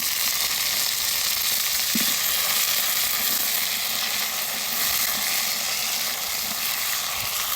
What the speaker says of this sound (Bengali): এখন আমি হচ্ছে আলুটা হালকা করে ভেজে নিব তেলের মধ্যে